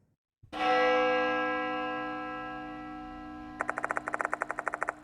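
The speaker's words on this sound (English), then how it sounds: "The sound of a bell rings loudly in my ears. It must be coming from the school's clock tower." A school clock tower bell strikes once loudly and its long ringing tone fades slowly, then a quick series of rapid bright chimes or ticks enters near the end.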